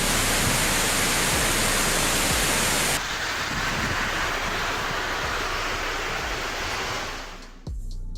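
Water gushing from the Tarbela Dam spillway release in Pakistan, a massive unbroken roar of torrent and spray, loud and broadband, easing slightly partway through before a brief dip near the end.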